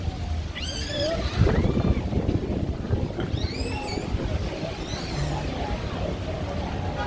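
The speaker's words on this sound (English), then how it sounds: "It's windy." Gusty wind buffets the microphone with low rumbling bursts, while birds chirp in the background and a few faint voices pass by.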